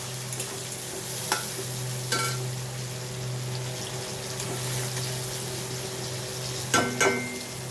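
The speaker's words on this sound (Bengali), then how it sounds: "পেঁয়াজগুলো একটু নাড়বো তেলে" Onions stirred in hot oil in a pan, a steady low sizzle running throughout with a few sharp scrapes of the spoon against the pan. No voices.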